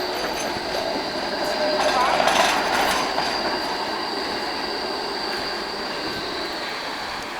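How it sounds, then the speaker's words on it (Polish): A long tram rumbles past on a street in Ghent with steady rolling noise and a brief squeal of wheels on rails, swelling as it goes by then fading. "A, długi tramwaj."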